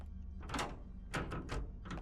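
A door opens inside a horror video game set in a back office, heard as a few separate thumps and clunks over roughly two seconds, close and fairly loud with no voices.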